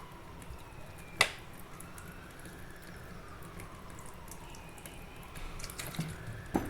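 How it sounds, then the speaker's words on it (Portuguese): Water splashed onto hands coated in fine clay, with soft wet trickling and dripping, a sharper splash near the start and a few louder drips toward the end, close by with no talking. "e vou jogar água novamente."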